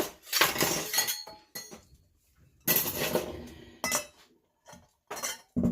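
Hot glass canning jars for water-bath canning applesauce clink and knock together in several short bursts with quiet gaps between, close up and fairly crisp, no one speaking.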